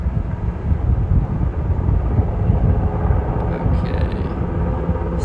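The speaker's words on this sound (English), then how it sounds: "So, this other Nighthawk helicopter is taking off now." A Nighthawk firefighting helicopter takes off during a wildfire on Otay Mountain in Southern California, a heavy low rumbling drone that holds steady and fairly loud, with wind buffeting the microphone.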